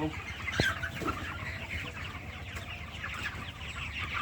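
Broiler chickens in a poultry farm cluck and murmur continuously as a flock, a busy layered chorus of soft calls with a few sharper cries, fairly close and steady throughout.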